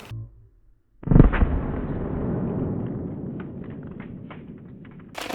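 A .410 shotgun loaded with birdshot fires at a door, giving a single sharp, loud blast followed by a long, fading rumble and echo in an open outdoor space.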